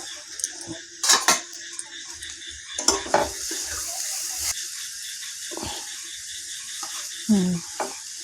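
A pot lid comes off a cooking vegetable mixture with a few sharp metallic clanks and scrapes, over a soft sizzle and the quiet rattle of utensils.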